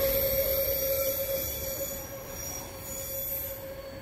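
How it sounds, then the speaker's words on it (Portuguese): Freight wagons rolling along a railway on the Serra do Mar climb, wheels squealing in a sustained high whine over low rumbling, fairly close and steady throughout. "E aproxima-se aí o último vagão."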